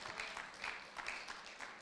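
A church congregation claps their hands during an Afrikaans service, a dense, steady patter of many hands with rhythmic swells, fairly distant and filling the room, without distinct speech.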